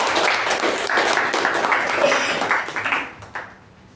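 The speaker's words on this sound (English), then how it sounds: "A big round of applause to them." An audience at a Toastmasters meeting gives a round of applause, a dense clapping wash that holds steady and then thins to a few scattered claps as it fades out over about four seconds.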